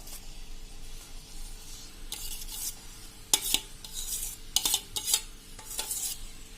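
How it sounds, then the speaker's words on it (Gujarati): A spoon gently stirring spinach and corn rice pulao in a pan over a medium flame, with soft scrapes and a few sharper clinks against the metal, close and fairly quiet. "અને એમાં હવે આપણે હળવા હાથે એને હલાવી લેશું મિત્રો"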